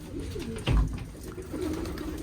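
An American Show pigeon coos softly nearby in a coop, with a brief low thump partway through and a quiet background, no speech.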